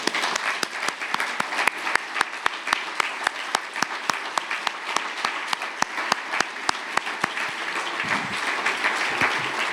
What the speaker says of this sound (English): give yourself a hearty round of applause